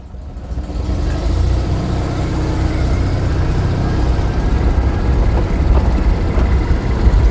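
An Invacar's small engine drones loudly from up close as the car starts rolling, a steady rough running note that builds after the first second and holds throughout.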